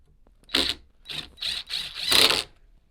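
A screw is driven into a homemade fabricated frame for small-farm equipment: five short, buzzing bursts of a driver, each lasting a fraction of a second, close and fairly loud with brief pauses between them and no talking.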